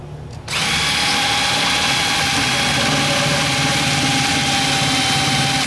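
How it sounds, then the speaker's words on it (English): A power drill starts up after a brief quiet moment and whines loudly and steadily, close by, grinding continuously into wood until the end. "Like that, and then drill out the hole."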